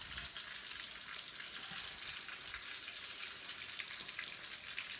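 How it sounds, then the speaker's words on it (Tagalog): Fried bangus (milkfish) crackling in a pan, a steady, fairly quiet hiss of sizzling oil with fine popping throughout, and no talk. "I think it's fried bangus."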